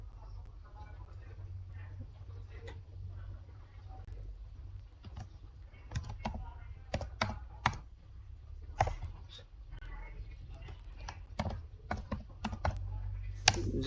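Typing on a computer keyboard, with irregular quiet key clicks and short bursts of faster taps over a faint low hum, close and soft, with no talking.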